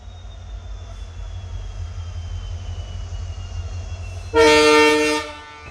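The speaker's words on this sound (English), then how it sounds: "this is the first time a train is arriving at Pavagada Railway Station." An inspection train rumbles steadily on new tracks arriving at Pavagada Railway Station, then a loud horn blasts for about a second near the end.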